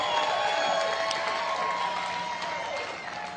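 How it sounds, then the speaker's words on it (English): Audience applause at a motivational seminar rolls on steadily as a broad, sustained wash of clapping, tapering slightly toward the end, with a faint voice or tone threading through it. "let's give him a round of applause"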